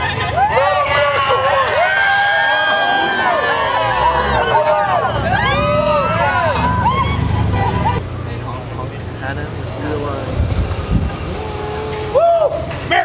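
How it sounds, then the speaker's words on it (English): Hundreds of protesters at Huntington Beach, California shout, whistle and cheer together outdoors, a dense, loud crowd roar with voices rising over it and traffic rumbling in the background. "In Huntington Beach, hundreds of protesters swarming the coast."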